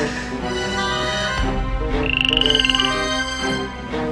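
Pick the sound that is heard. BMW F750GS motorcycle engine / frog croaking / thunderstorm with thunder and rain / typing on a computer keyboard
frog croaking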